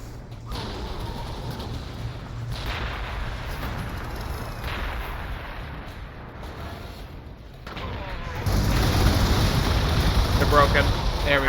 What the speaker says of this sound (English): Firing more artillery.